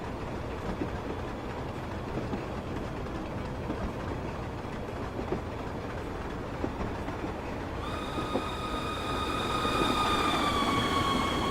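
A Class 25 diesel locomotive rumbles steadily along the Western Lines of Scotland in Train Simulator 2015. Near the end a sustained horn-like multi-tone note rises over the running noise.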